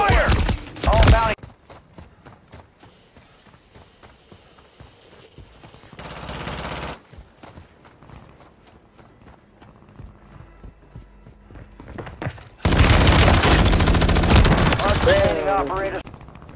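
Warzone 2 gameplay gunfire: rapid automatic bursts, with a long loud sustained stretch near the end and quieter scattered shots and game noise between, plus brief game voice lines.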